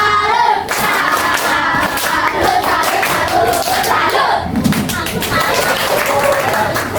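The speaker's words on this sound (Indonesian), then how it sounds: "Kasih tepuk salut dong" A class of students does a rhythmic salute clap, with busy hand claps and thumps filling the room alongside voices and chatter throughout.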